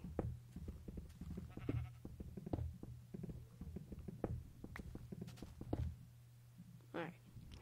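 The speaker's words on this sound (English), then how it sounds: "I think it's like a sheep or something." Sheep bleating inside a video game, a few short bleats rising over steady game sounds, footsteps and clicks, with a player's voice talking at low level throughout.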